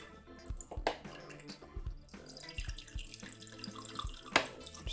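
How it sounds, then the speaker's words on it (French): White vinegar pours into a glass in a soft, trickling stream close by, with small splashes and drips and quiet knocks in between. "Dans le deuxième verre, je viens mettre du vinaigre blanc."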